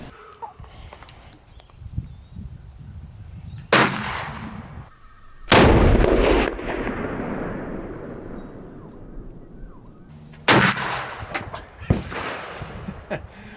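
Three loud, sharp gunshots from a Ruger Super Blackhawk 6.5-inch revolver firing .480 Ruger Hornady 325 rounds, spaced several seconds apart, each followed by a long echoing decay over quiet outdoor background with faint voices.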